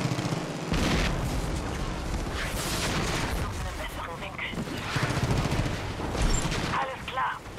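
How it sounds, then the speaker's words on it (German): Gunfire in the Far Cry 5 video game, a dense run of shots and bursts with booms mixed in, continuous over most of the stretch behind game noise and under a voice. "Auf wen schießen die?"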